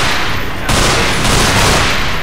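Rapid bursts of gunfire from the horror shooter Underhell, loud and dense, with a sharper, heavier volley kicking in partway through and continuing to the end.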